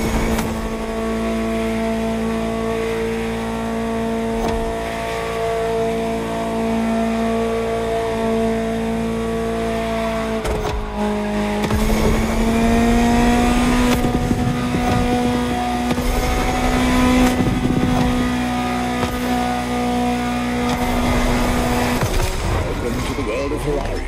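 A Ferrari supercar in the racing game The Crew Motorfest holds a steady engine drone, then shifts up around mid-clip and keeps droning louder with busy road and tire noise, while a voice talks over the start.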